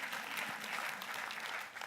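Audience applause at an HR conference session, a dense steady wash of clapping filling the room without a break, with no voices standing out.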